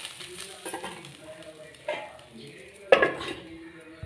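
A pot of curry on the stove is covered with its lid, giving one distinct metallic clank near the end, with lighter pot and utensil clinks before it and no talking.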